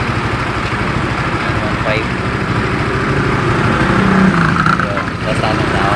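A Suzuki Rider 150 FI motorcycle engine idles in neutral at about 1500 RPM, a steady low drone close by that holds even throughout, with a voice speaking briefly over it.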